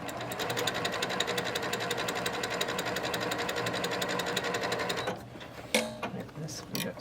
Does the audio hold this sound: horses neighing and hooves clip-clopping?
no